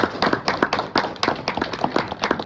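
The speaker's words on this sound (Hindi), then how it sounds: "जोरदार तालियां हो जाए" An audience claps for a prize winner at an achievement event in Reckong Peo, a fairly close, moderately loud burst of individual hand claps from a modest group, uneven and lively without talk.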